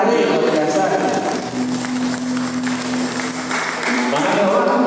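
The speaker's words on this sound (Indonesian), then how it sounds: "Tepuk tangan buat Ali luar biasa." Applause for a guest named Ali at an Indonesian talk event, a dense broadband patter of clapping that continues under voices and a sustained low musical tone.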